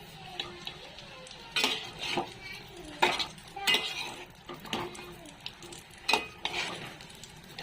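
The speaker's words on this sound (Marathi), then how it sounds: "आता ही वांगीत ना आपल्याला या तेलात चांगली परतून घ्यायच्यात" Eggplant stir-fried in oil gives a soft background sizzle under repeated clanks and scrapes of a spatula against the pan, close and irregular.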